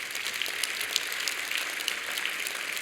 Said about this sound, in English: a round of applause for Dr. Mariangela Hungria